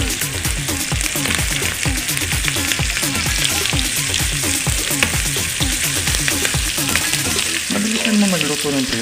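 Tuyo, a dried fish, frying in hot oil gives a loud, continuous sizzle with rapid crackling pops throughout. A brief clatter comes near the end, and no one talks.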